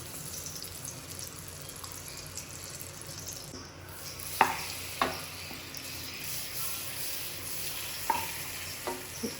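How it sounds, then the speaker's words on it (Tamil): Butter melts and sizzles in a hot kadai with a soft, continuous frying hiss, broken by a few sharp clinks and scrapes of stirring. "பட்டர் நல்லா மெல்ட் பண்ணி விட்டுக்கோங்க."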